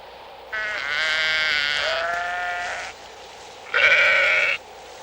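Sheep bleat on open grassy pampas grazing land in the far south of Chile, two long wavering cries, the second louder and closer, with no talk.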